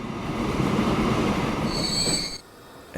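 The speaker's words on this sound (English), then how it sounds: "that should allow this train to move" A train in the Transport Fever video game rolls along with a steady rumble of wheels, then high squealing from the rails near the end before it quiets abruptly.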